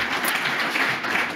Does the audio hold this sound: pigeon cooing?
no